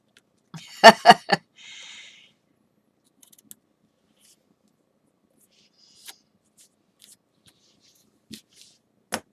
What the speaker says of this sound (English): I'm going to have to get in there with some very fine scissors and get that.